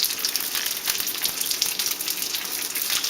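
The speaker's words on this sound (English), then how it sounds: "We're just going to place them in the pan with some heated vegetable oil" Shrimp gyozas fry in a pan of heated vegetable oil with a steady, crackling, moderately loud sizzle and fine popping throughout, and no talk.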